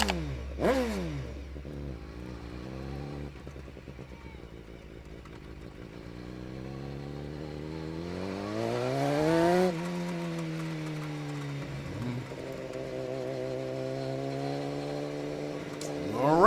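Onboard engine of a 2017 BMW HP4 Race superbike ridden by Peter Hickman, loud and continuous, rising and falling in pitch through gear changes, with a sharp climbing rev near the middle and steady high-rpm running afterward.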